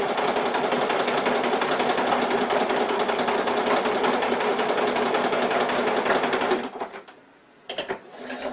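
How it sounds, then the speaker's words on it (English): A sewing machine top-stitching a fabric purse runs steadily in a fast, even mechanical chatter for about six and a half seconds, then stops, followed by a few brief handling clicks and thumps. "I'm now going to top stitch from there and there"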